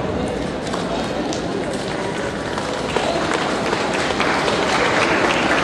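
A college fest audience claps continuously, a dense, steady wash of applause from a large crowd with talking heard over it throughout.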